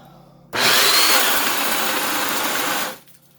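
A Bauer Super Hawg 1/2-inch right angle drill whirs into pine for about two and a half seconds, steady and loud with a slight strain as it bogs down, then winds down to quiet.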